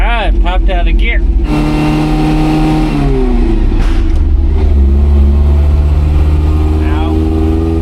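A car engine revs loudly after popping out of gear, the pitch rising and dropping in surges with a deep rumble underneath, while a voice talks briefly at the start.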